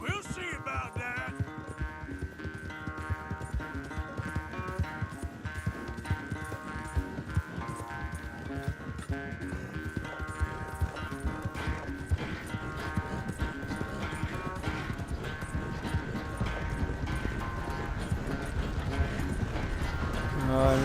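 A horse gallops in Red Dead Redemption 2 during a race, with steady rapid hoofbeats drumming throughout over game music, close and continuous with no talk over them.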